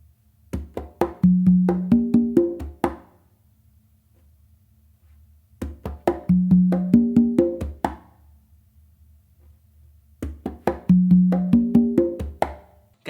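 Tumbao pattern on conga and tumba, three repeated phrases of quick hand slaps and open ringing tones, close and clear, separated by short silences.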